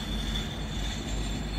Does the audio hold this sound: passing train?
yes